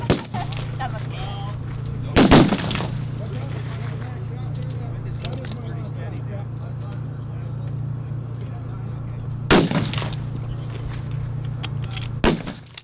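Three sharp rifle shots crack out at a 600-yard NRA mid-range match on a Marine Corps range, widely spaced over a steady low hum of background noise.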